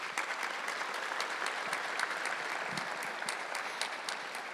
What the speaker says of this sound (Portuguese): Vamos aplaudir os jovens de Deus.